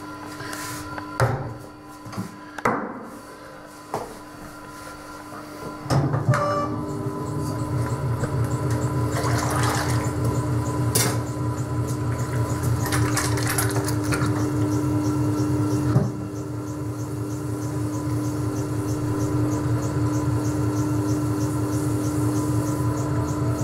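A pottery wheel spins steadily while a large stoneware teapot is thrown. After a few knocks and clunks, a continuous motor hum settles in and runs at an even pitch, close and moderately loud, with no talk.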